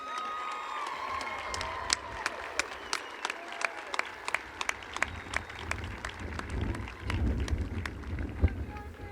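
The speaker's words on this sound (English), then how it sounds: "so let's give them one more round of applause." Audience applause at the Clint High School graduation in 2017, a broad steady wash of clapping from a large crowd with sharp individual claps standing out and scattered cheers rising toward the end.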